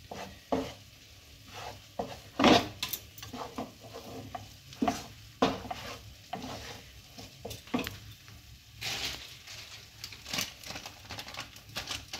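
Flour being stirred into boiled moong dal in a pan, quiet soft scraping and mixing strokes at an irregular pace, close by, with a faint sizzle beneath and no talk.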